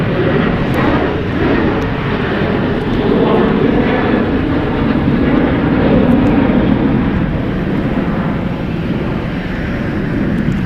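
An Alaska Airlines airliner executing a go-around at San Francisco International Airport, a steady, loud broadband jet engine roar that holds continuously for the whole stretch with slight swells in intensity.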